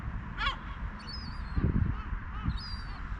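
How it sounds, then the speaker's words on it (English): A gull gives odd honking, squawking calls that repeat a few times at close range, with high squeaky notes in between over low outdoor rumble. "Makes a very unusual sound, doesn't he? This other gull."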